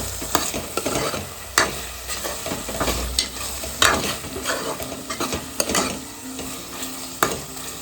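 Chicken sizzles in a pan with coriander while being stirred, giving a continuous fry crackle with repeated irregular scrapes and knocks of the utensil, close up with no speech.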